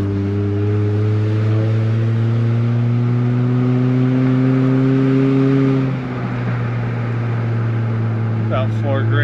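A car engine held at about 4000 rpm while driving out of town, a loud steady drone that drops in pitch near the end as the throttle eases, with a voice speaking over it.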